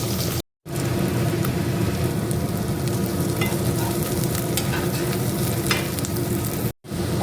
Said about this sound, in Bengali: মাছটা ভাজছি